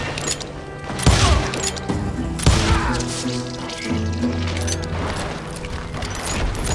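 Gunshots in the Western video game Call of Juarez Gunslinger, a couple of sharp loud cracks with mechanical clatter and ringing tails over a background game score.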